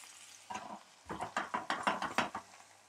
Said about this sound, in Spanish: lo que escuchan por ahí atrás es el ruido de, de la espinaca que se está cocinando